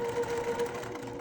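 A sewing machine stitches quilt block pieces for an iris block, its steady rapid needle rhythm running close and continuous without a break.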